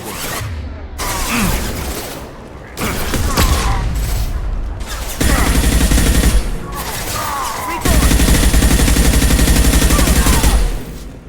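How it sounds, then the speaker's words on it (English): Flashbang grenades and heavy gunfire in the video game Mass Effect 2, with dense, loud bursts of shooting and booming blasts that keep building in waves and run almost without a break. "Watch out! Flashbangs!"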